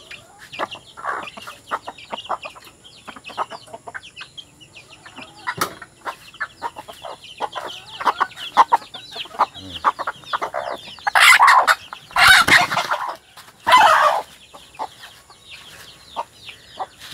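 Wild junglefowl and tame hens kept in a cage give scattered clucks and calls, with a few loud, harsh bursts of crowing or wing-flapping near the end. The sounds are close and alone.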